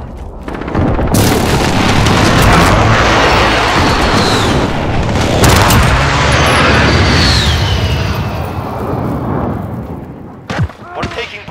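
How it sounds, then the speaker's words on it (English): Explosions from an incoming airstrike in Call of Duty Modern Warfare (2019) on the Grazna Raid map, a loud sustained barrage of booming blasts with crackling gunfire, easing off near the end with a few sharp hits. "Allies receive an airstrike incoming."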